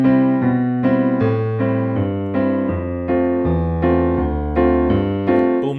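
Piano played in an even straight rhythm, alternating low bass notes and chord stabs in a steady boom-ching pattern, loud and close throughout with no talking.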